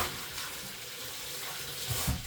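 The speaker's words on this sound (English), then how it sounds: "I'm gonna wash my hands." Faint, steady hiss of tap water running in a kitchen while hands are washed, with a couple of soft clunks near the end and no speech.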